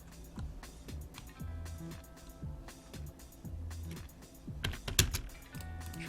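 Keys clatter on a computer keyboard while drafting in AutoCAD, with a quick run of close, crisp taps in irregular bursts over a faint background hum.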